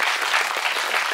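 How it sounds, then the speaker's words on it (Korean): A cinema audience at a CGV Yongsan special screening and talk for the film Jangson applauds, a brief, continuous burst of many hands clapping together. "박수를 쳐주시네요"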